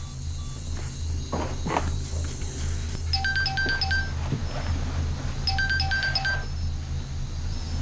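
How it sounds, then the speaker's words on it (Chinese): A phone rings with an incoming call during a military exercise, two repeated bursts of bright electronic ringtone chirps over a steady low hum and faint footsteps, with no talking. "坏了，王虎打过来的电话"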